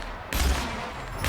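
Gunfire in the video game The Outer Worlds: a short burst of concentrated shots in a firefight, sharp reports kicking in abruptly and ringing on over a rumbling backdrop.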